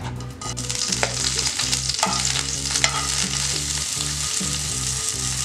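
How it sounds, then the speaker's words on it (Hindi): Green chillies crackle and sizzle in a hot pan for a chana masala, a steady dense frying hiss with occasional stirring scrapes and pops, close and continuous without any talk. "अब पहले मैं हरी मिर्च डाल देती हूँ पैन में"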